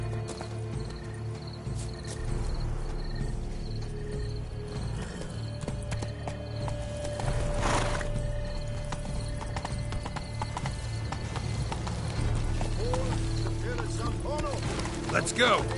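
Horse hooves clip-clopping steadily in the Witcher 3 game, with a faint whinny, a rumbling background and a voice talking over it.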